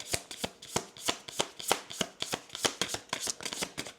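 Tarot cards riffled and shuffled by hand, a quick run of crisp, close slaps and flutters in an uneven rhythm, with no talking.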